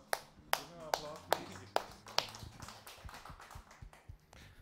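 A small audience at a tech meetup gives a brief, sparse round of claps, a handful of distinct sharp hits that soften into scattered patter, with voices speaking underneath.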